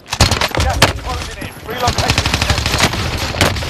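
Warzone gunfire from a Lachmann Sub-style Milano and Tundra loadout at end-circle, dense rapid bursts of automatic shots and sharp single cracks, loud and near, with brief player talk mixed in.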